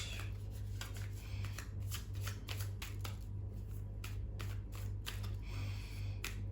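Thoth tarot deck being shuffled by hand, a run of crisp riffling card bursts repeating at a steady pace over a low steady hum, close and moderately loud with no talking.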